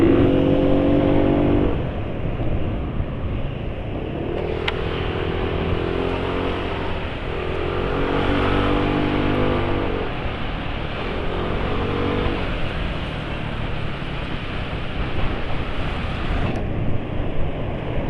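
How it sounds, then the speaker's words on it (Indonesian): Motorcycle engine running steadily after a change to Bardahl 20W50 oil, a continuous close idle hum with some rising and falling revs and no talk over it. "Suara mesinnya kok aneh."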